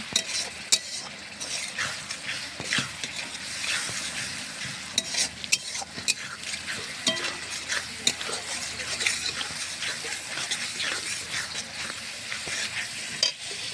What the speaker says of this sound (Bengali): এখন দিয়ে দিব একটা টমেটো কুচি। বিসমিল্লাহ। একটু নেড়ে নিব।